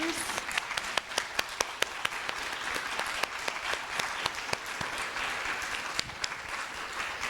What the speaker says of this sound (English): A round of applause or hoots and hollers.